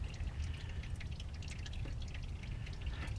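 Transmission fluid drains from the transfer case of a 2001 Ford F-250 Super Duty 4x4 after a short plug is pulled, a faint steady trickle with soft drips under low background hum, no talking.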